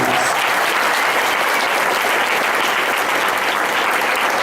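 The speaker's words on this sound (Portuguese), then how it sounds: "Aplauda o Senhor mais uma vez." Steady, dense applause from a large church congregation, loud and continuous throughout with no pauses.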